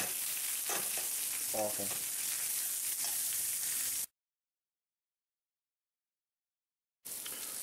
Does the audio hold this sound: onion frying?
yes